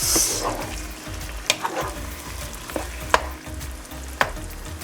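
Beef empanada filling sizzles in a hot pan as a spoon stirs it, a steady close frying hiss broken by a few sharp scrapes and clinks against the pan, with no talking.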